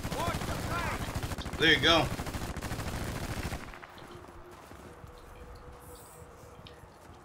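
Machine gun fire in Battlefield Bad Company 2: a fast, loud rattling burst for a few seconds, briefly overlapped by a short spoken phrase, then cutting off into quieter background ambience.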